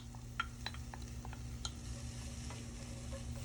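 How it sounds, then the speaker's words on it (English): Celery sautéing in butter for jambalaya, a soft, low, steady sizzle with light scattered clicks of a utensil stirring in the pot, no talking. "And we'll saute that and sweat it down for a little bit."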